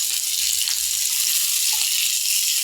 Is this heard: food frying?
yes